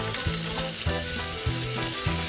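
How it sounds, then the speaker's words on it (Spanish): Vegetables sautéing with soy sauce in a hot pan, with a steady sizzle and repeated stirring strokes, loud and close, with no talk. "Solamente falta saltear las verduras"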